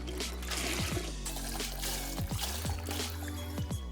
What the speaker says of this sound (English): Add milk and cold water.